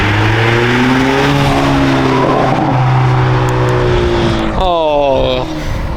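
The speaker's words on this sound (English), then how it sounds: "the little burbles when you let off" A Honda Civic Sport Touring with a Borla S-Type exhaust revs and falls away, its exhaust popping and burbling as the throttle lifts, loud and close, ending with a sharp rising rev.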